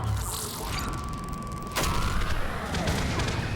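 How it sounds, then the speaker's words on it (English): Rocket impacts and explosions in the video game Mass Effect 3 on Tuchanka, a dense, continuous roar of blasts and gunfire-like bursts with a sharp louder hit partway through and a rising whine overhead. "And all those rockets hit the wrong targets"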